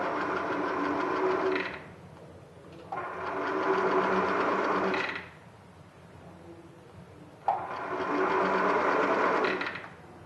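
A sewing machine stitches the fabric collar of a blazer in three loud, steady bursts of whirring, separated by short pauses.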